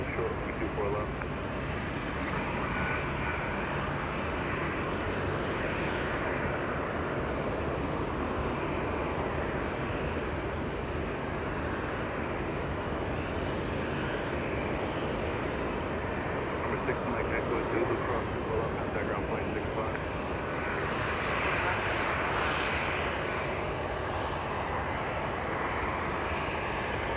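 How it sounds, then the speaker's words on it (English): A Boeing Dreamliner sits at LAX amid steady, continuous airport jet noise, a broad engine rumble holding level throughout with faint radio chatter beneath. "Let's go take a look at the Dreamliner facing us"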